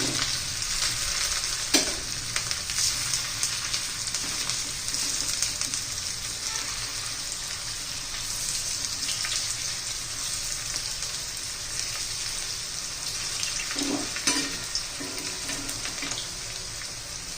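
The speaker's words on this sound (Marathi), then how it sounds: "आता माझा हा भाकरीचा तवा आहे लोखंडी, त्याच्यात तळून घेते मी." Crispy snack pieces made from leftover chapati fry on a hot iron bhakri griddle with a constant, dense sizzle and crackle, occasional utensil taps and scrapes, continuing evenly throughout.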